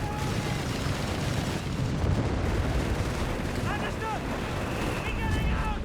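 A Wirbelwind anti-aircraft gun fires in Company of Heroes 3 amid a rumbling mix of battle noise, with rapid bursts and booms layered over steady wind-like roar and occasional whistling tones.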